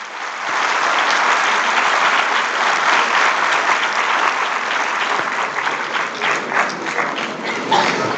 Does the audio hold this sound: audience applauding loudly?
yes